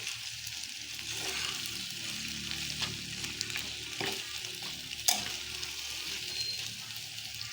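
Alamang, tiny shrimp paste, stir-fried in oil: a steady close sizzle with occasional scrapes and clinks of a spatula stirring the pan, no talking.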